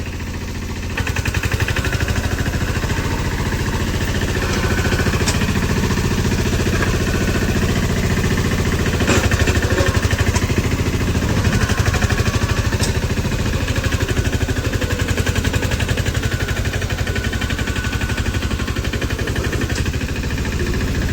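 A farm tractor engine labours while driving up through sand, giving a steady, loud mid-pitched rumble that holds nearly unchanged for about twenty seconds, with no voices over it.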